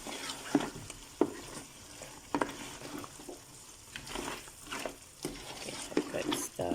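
Mutton gravy thickened with grated potato being stirred in a pot, repeated knocks and scrapes of the spoon in an uneven rhythm over a low bubbling sizzle, no talking.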